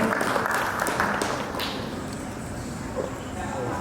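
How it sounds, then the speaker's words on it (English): Audience applause for two presenters at AfriExpo 2023 business event, a steady wash of clapping that fades slightly, with some crowd noise mixed in. "A round of applause for Kwajo and Lisa"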